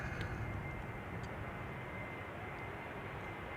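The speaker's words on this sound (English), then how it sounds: "There's departures taking place from runway 24." Jet airliner departing from Schiphol's Polderbaan runway 24 on a warm summer day, a steady, heavy broadband engine roar heard from some distance and holding constant throughout, with no talk over it.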